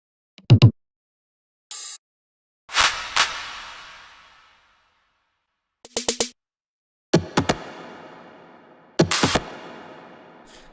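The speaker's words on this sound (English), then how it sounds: "Then we have like all the percussion sounds" Percussion fills programmed in FL Studio for a remix: several separate short hits and bursts, some with long reverb tails, spaced across the stretch with silent gaps between them, no voice.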